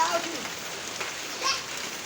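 Steady rain patters on a surface, a soft, even hiss with a few faint distant voices behind it.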